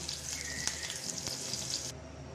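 Vegetables fry in hot oil in a pan, giving a soft, steady sizzle with a few faint clinks, quiet and close, with no talk.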